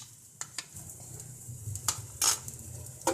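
Garlic and cumin fry in a pan with a soft sizzle, broken by a few metal clinks and scraping stirs of a spoon against the pan, close and alone.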